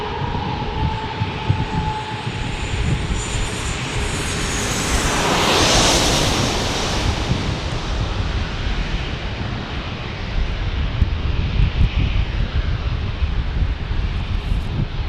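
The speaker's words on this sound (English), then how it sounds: "Southwest Airlines next." Southwest Airlines airliner at San Diego airport, a loud broad jet engine roar that peaks midway as it passes and then holds as a steady rumble with some wind noise.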